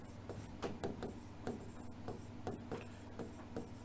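Quick scratchy strokes of handwriting come in a rhythmic series of short scrapes and taps, faint and close, as notes are written during an RAS exam lesson.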